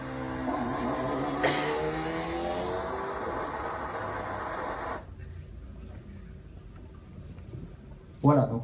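An Alpine A110 race car at an Alpine A110 Europa Cup event passes loudly with a sustained, harmonic-rich engine note. It cuts off sharply partway through, leaving quieter ambient noise and a brief burst of sound near the end.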